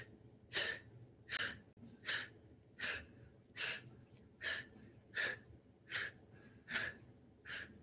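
Repeated sharp nasal inhalations during a facial workout, about ten quick sniffing breaths in a steady rhythm, close and fairly loud with no talking.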